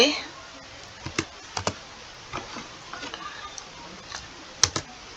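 A short Linux terminal command such as a directory change being typed on a computer keyboard: a few scattered, sharp key clicks with pauses between them, fairly close and quiet over a faint background hiss.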